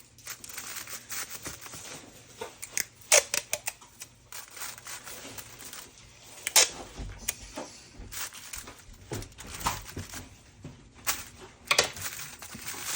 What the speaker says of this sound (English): I am going to tape the instructions on